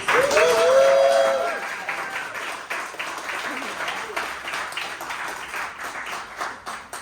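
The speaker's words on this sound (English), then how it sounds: "Give them a round of applause." An audience at a youth tutorial program celebration claps loudly, the applause rising fast then thinning under a young speaker's voice that carries on over it.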